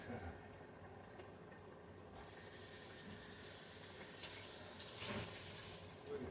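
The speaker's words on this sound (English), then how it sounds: "Now, let me rinse my board." Water running from a kitchen tap onto a cutting board as it is rinsed, a steady broadband hiss that starts abruptly partway in and swells briefly before cutting off near the end.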